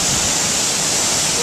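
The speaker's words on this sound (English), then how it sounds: "We're at the base of the waterfall" A waterfall in Boquete, Panama roars at close range from its base, a loud, steady broadband rush of falling water with no pauses or voices.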